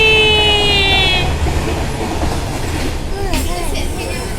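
A passenger train nearing a station rumbles steadily at close range, with a sustained tonal squeal that fades early and brief screeching or clanking toward the end.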